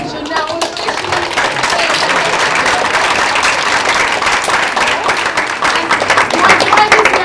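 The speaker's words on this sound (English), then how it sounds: "give yourselves a big round of applause" An audience claps together in a dense, sustained round of applause that swells slightly toward the end, with children's voices mixed in.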